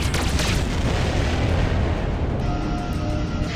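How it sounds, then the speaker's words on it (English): A heavy, rumbling explosion in the space game Freelancer fills the clip, loud and sustained with deep booming low end, gradually settling into a dull roar. "I hear something too, and that's an explosion."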